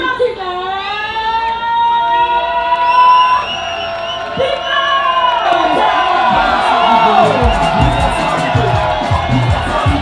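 A large outdoor crowd at a traditional festival tour event cheers and whoops loudly and continuously, with shouting voices and children's calls blended into a dense, sustained roar.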